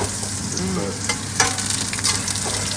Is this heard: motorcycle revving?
no